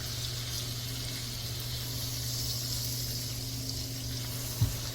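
Steaks sizzle steadily in a hot pan, a continuous broad hiss with a low hum beneath and one brief clunk near the end as a steak is flipped.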